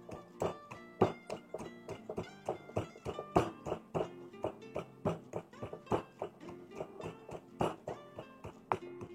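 Hard candlenuts are pounded in a mortar while Javanese terung garang asem is cooked, giving a steady run of close, dull thuds, fairly quiet and evenly spaced with no talk.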